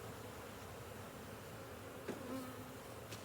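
Honeybees buzz around an opened hive at the brood area, a steady dense hum with a few louder individual bees passing close.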